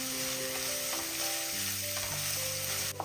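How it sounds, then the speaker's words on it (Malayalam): Ginger and garlic sautéing on a medium flame, a bright steady sizzle hissing close by with faint stirring underneath and a small knock at the end. "ഇഞ്ചിയുടെയും വെളുത്തുള്ളിയുടെയും ആ പച്ച ടേസ്റ്റ് ഒന്ന് മാറുന്ന വരെ ഒരു 10 സെക്കൻഡ് ഇളക്കി കൊടുക്കുക"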